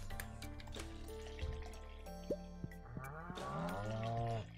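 Cows in the farming game Stardew Valley give low, drawn-out moos, one after another, fairly faint over soft background game music.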